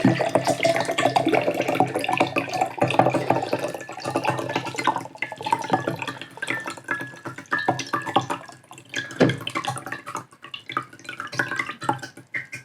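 Bongbong grape drink, a grape beverage with whole grape pieces inside, pours steadily into a glass, a continuous liquid splashing and trickling that runs through the whole stretch without any talk.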